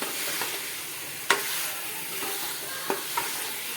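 Spiced corn curry is stirred in a pan, with a soft steady sizzle beneath a few sharp spoon scrapes and clicks against the pan.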